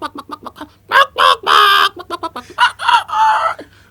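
A man mimics a rooster and hens, voicing a rapid series of short clucks followed by longer crowing and cackling calls, loud and close, with no other sound behind him.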